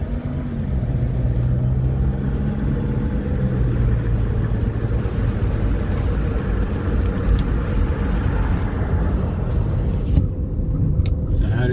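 A 2011 Toyota RAV4 cruising along Boulder Highway in Las Vegas, steady close engine drone and road rumble from inside the cabin, unbroken throughout.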